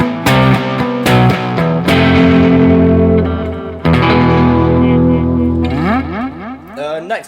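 Roland RE201 Space Echo VST plugin on head 3 with reverb, a loud processed instrument passage of repeated notes trailing into echoing repeats and a washy tail, ending in smeared, sweeping pitch tails.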